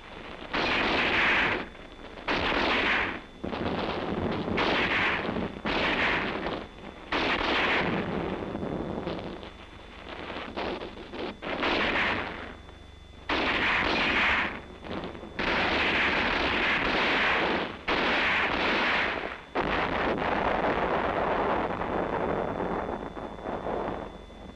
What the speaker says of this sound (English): the enemy blows a gap in the tactical wire and continues the attack